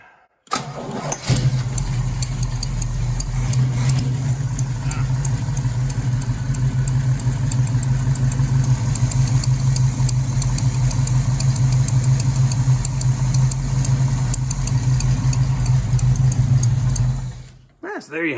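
1969 Pontiac Firebird engine firing up after a short crank, then settling into a steady, loud, close idle that runs on for over fifteen seconds before cutting off.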